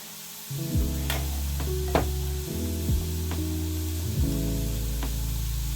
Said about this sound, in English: now we're going to cut our butter into our streusel topping.